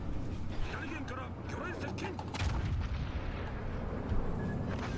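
In the naval combat game World of Warships Legends, warship guns boom over a dense, rumbling battle soundscape while a player talks throughout.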